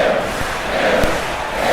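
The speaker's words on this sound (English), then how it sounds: "The crowd hyping up Kenzie Kray, chanting kill again" A wrestling arena crowd in a WWE 2K match roars and chants in a dense, sustained wash of voices, loud and continuous throughout.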